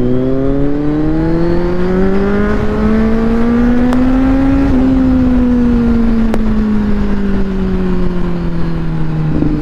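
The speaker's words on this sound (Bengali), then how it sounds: "ভাই সবাইকে একটা করে ভালো ফ্লাই বাই দিলাম" A Kawasaki Z900 superbike makes a fly-by, its engine note climbing in pitch as it approaches, peaking midway, then dropping as it pulls away; loud and continuous throughout, with no voices.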